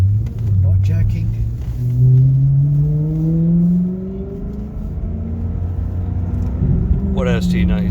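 A Maserati Quattroporte after an engine carbon clean pulls along an open road, its engine note rising through gears in smooth sweeps, while a person talks briefly at the end.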